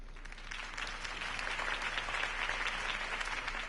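Steady applause from a large crowd in a Batman video game, dense clapping sustained throughout at an even, fairly loud level, with no voices over it.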